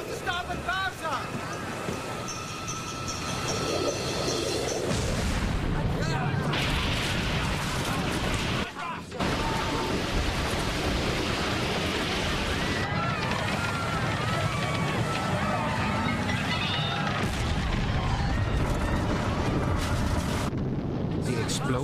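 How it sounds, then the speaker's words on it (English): A torpedo explosion against the ocean liner Lusitania: a deep, rumbling boom roars continuously, with a brief dip partway through, then a second heavy blast rolling on under dense low noise. "The explosion of the torpedo,"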